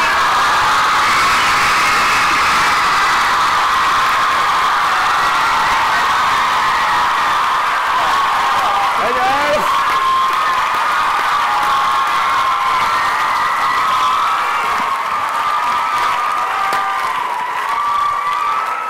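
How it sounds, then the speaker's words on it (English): A large BookCon crowd in a packed room applauds and cheers a panel, with a continuous dense roar of clapping, whoops and shouts that holds steady throughout. "let's give a big hand of applause for our panel tonight."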